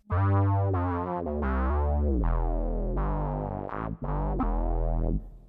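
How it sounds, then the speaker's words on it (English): Deep synth bass notes from a guitar synth pedal play a punchy riff, each note thick and resonant with strong low end, played alone and fairly loud. "It's also capable of producing bass sounds."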